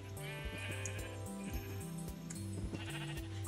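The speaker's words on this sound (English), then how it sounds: "Every second, another sheep pops up." Sheep bleating in a Minecraft arcade game on the Mineplex server, repeated short bleats in quick succession over a steady game music bed, close and fairly loud with no talking.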